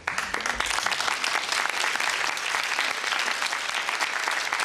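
Studio audience applause for a game show contestant receiving a prize, a steady, dense wash of clapping from many hands that stays loud and even for the whole stretch, with no talking over it.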